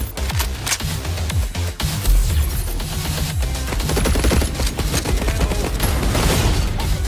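Dense, loud bursts of gunfire and automatic weapon fire from a video game trailer shown at an Xbox showcase fill the whole stretch, mixed with rapid clattering and booming impacts without a break.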